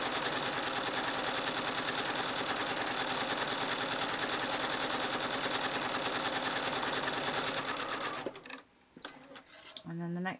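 A sewing machine does free machine embroidery on a postcard, running in a fast, steady mechanical chatter close up for about eight seconds before stopping abruptly, followed by brief clicks and handling noises.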